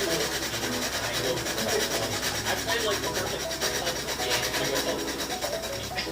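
Sandpaper of 180 grit rubbing steadily across an aluminium alloy differential case for a Rovan RF5 RC model, a continuous close scratchy friction with even strokes and some low background rumble.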